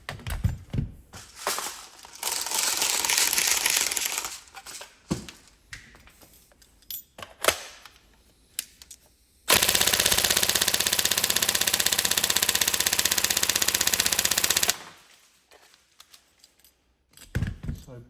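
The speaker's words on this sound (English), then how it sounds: "So bolt stop function working, full auto working." A Tokyo Marui M4 SOPMOD NGRS airsoft rifle on a 1300 battery fires full auto in a loud, steady burst of about five seconds, with shorter bursts and bolt clatter before it and faint handling noises around it.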